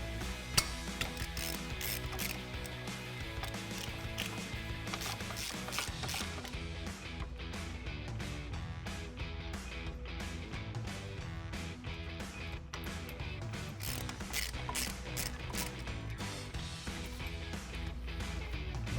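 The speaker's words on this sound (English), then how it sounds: "Got an 18mm bolt here and another one down here. So let's go ahead and take those out." A ratchet works loose the 18mm caliper mounting bracket bolts on the front brakes of a 2007-2018 Chevrolet Silverado, with dense rapid clicking continuing steadily and close throughout.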